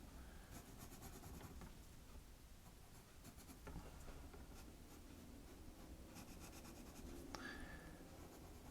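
A regular pencil drags thick sound-effect lines across comic art paper, giving soft, steady scratchy strokes in quick repeated bursts, close and quiet, with faint background hum throughout.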